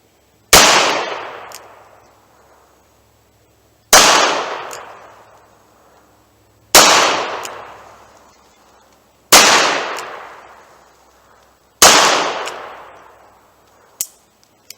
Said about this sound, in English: I'll shoot the little tiny target guy on the left there. I'll do single action.